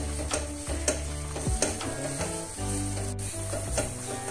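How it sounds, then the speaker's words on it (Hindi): A spoon is stirred steadily through a thick coconut and chocolate barfi mixture in a pan, giving soft rhythmic scraping and faint sizzling, close and quiet. "मुसलसल आप इसमें स्पून चलाते रहें।"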